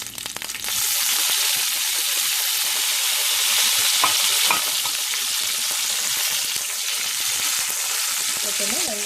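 Ginger, green chili and curry leaves sautéing in a hot pan for an egg aapam side dish: a loud burst of sizzling starts almost at once and holds as a dense, close hiss with occasional pops.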